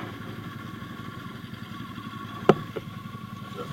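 A motorcycle engine chugs steadily during a weekend ride in Normandy, a low, even putter at moderate level. A sharp clack cuts in once near the end.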